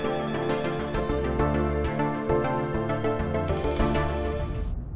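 A melodic phone ringtone plays in a household scene, a bright, repeating electronic tune with a steady rhythm, loud and alone for about five seconds before cutting off.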